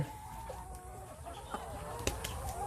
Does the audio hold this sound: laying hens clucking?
yes